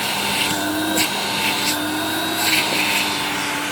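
A Vax 121 vacuum cleaner runs steadily through its stretch hose during a suction test, a loud, continuous whooshing roar with slight fluctuations.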